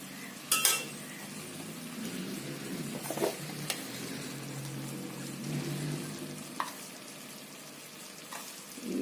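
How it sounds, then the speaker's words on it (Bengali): Biryani masala with yogurt, ginger-garlic paste and garam masala sizzles in a pot while being stirred, a low steady frying hiss broken by several sharp scraping clinks of a spoon against the metal. "দই দিয়ে একটু আমি এখন এটা ভালো করে গরম মশলা দিয়ে কষাই।"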